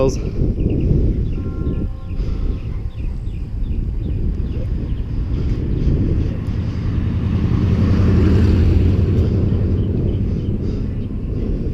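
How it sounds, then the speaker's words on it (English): Church bells ring in the distance, faint and steady beneath wind rumble and road noise during a bike ride, with no talking over them. "You hear those bells?"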